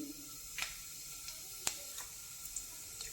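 Cumin seeds fry in hot oil at the start of a spicy village-style prawn kharda: a faint, steady sizzle dotted with a few sharp crackles and pops, with no talking.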